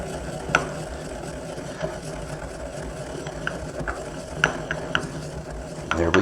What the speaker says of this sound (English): I put them right in a mortar and pestle